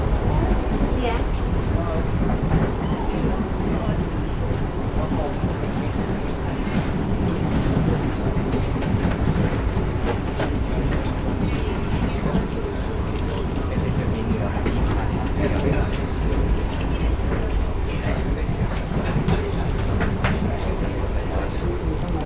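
A moving train rolls along the rails with a continuous loud rumble and faint rhythmic clatter, heard from inside, with voices and announcements mixed under the noise.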